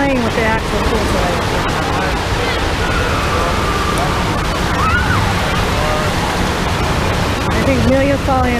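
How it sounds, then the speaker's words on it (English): Water in a waterpark wave pool washes and sloshes in a steady, noisy roar, with people talking and children's voices over it. "I think Amelia's falling asleep to the waves."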